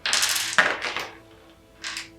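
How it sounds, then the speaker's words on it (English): Two dice tumble and clatter across a table during a Raiders of the North Sea board game, giving a few quick, close rattling bursts, then a short pause and one more brief clatter. "Roll 2 dice,"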